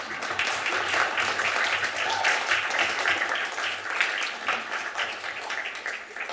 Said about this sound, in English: Now everybody clap